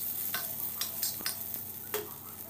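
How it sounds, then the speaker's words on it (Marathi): Green chillies roast in hot oil on an iron griddle for a village-style chicken curry, giving a steady close sizzle broken by a few brief scraping stirs. "तव्यामध्ये मी थोडं तेल घालून घेत आहे आणि आता यामध्ये हिरव्या मिरच्या घालून घेऊया"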